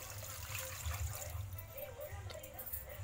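Water is poured over mutton bones in a pot that has been seasoned with salt and turmeric for a bone curry, a soft continuous splashing and trickling that stays faint and close for about three seconds.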